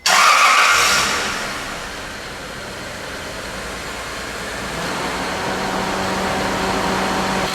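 A car's air conditioning compressor clutch makes a faint noise under a steady engine hum, heard close in the engine bay after a brief louder burst at the start, with no talking.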